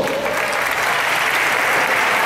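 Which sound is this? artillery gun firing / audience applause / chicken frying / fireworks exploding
audience applause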